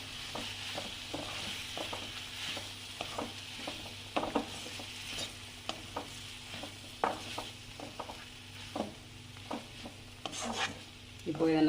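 A spoon stirs coriander and mint into sautéed onion and tomato in a pan for tomato chutney, giving repeated soft scraping strokes over a faint sizzle, close and without voices.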